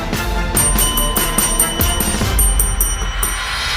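A bright, ringing notification bell sound effect repeats in quick rhythmic strikes over a steady background, loud and close.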